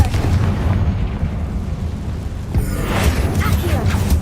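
Confringo fire spell blast in the Hogwarts Legacy video game, a booming explosive burst with a rumbling tail, then a second sharp blast midway with crackling debris.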